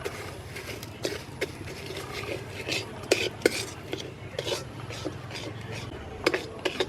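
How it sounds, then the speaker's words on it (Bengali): A spatula scrapes and stirs jackfruit pitha mixture in a pan, with irregular metallic scrapes and clinks over a soft bubbling base, some strokes sharper and louder than others. "এবার আমি একটু খুন্তি দিয়ে নেড়ে দেবো"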